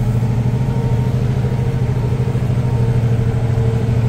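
A loaded truck's engine runs steadily near a pivot irrigator in a field, a loud, continuous mid-pitched drone without talk.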